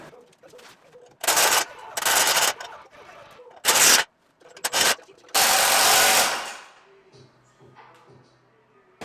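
Loud bursts of a power drill biting into metal cassette bearing holders on a KX250 go-kart axle, several short runs then one longer grinding stretch that winds down into quieter machine hum.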